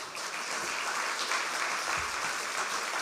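Audience applause at a student involvement gala on a university campus in Saint-Jérôme, steady dense clapping from a crowd filling the room at moderate distance, with no break.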